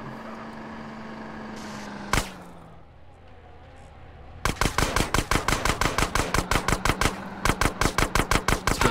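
Rapid bursts of gunfire in Grand Theft Auto San Andreas, a single loud shot followed by a steady automatic rattle of evenly spaced, close, sharp reports over a low background drone.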